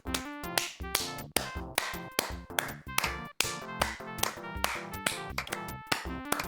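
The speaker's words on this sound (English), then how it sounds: "Tons of applause." Applause from the 1988 computer game Leisure Suit Larry 2 comes as a run of sharp, synthetic clap-like hits in an uneven, rapid rhythm, plainly electronic and heard alone.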